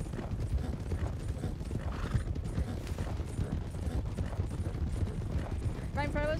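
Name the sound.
horses neighing and hooves clip-clopping in a video game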